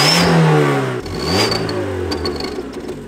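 A car engine revs with a novelty sound device clamped into its exhaust pipe, a loud near rising and falling whine that dips briefly before climbing again, heard alone.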